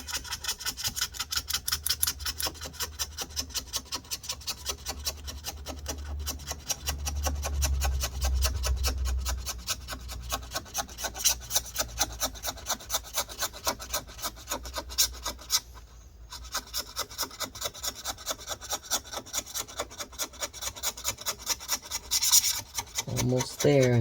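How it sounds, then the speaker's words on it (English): Steady rasping scrape of a tool working battery adhesive off the inside of a 13-inch mid-2017 MacBook Pro A1708, close and continuous with a repetitive rubbing rhythm, no talking. "Let's go ahead and continue scraping this off."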